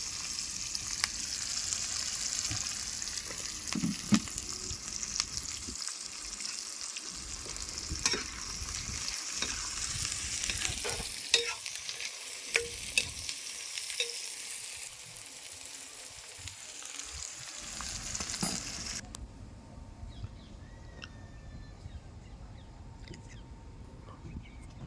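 Onions and green chillies frying with cumin in hot oil for a dhaba-style bottle gourd curry, a long, steady sizzle with crackles and intermittent stirring scrapes, close and even, softening to quieter hiss near the end, with no talking.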